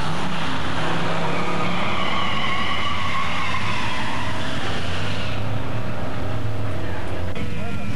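Two Buick drag racers, a turbocharged 231 V6 and a big-block 455 V8, roar down the strip at a 1992 NMCA World Finals event, loud engine noise filling the whole stretch before easing slightly, with an announcer talking over it.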